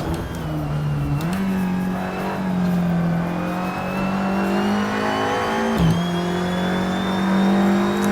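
A race car engine in a racing video game holds a steady drone with small pitch dips and shifts, running loud and continuous from start to finish at the opening of lap one.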